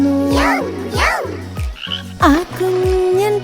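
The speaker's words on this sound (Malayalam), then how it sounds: "ഒരു കുഞ്ഞൻ തവളയിതാ മരത്തടിയിലിരിക്കുന്നു." A small frog in a children's rhyme croaks in repeated, evenly spaced low croaks with rising chirpy calls layered over them, loud and close with no talking.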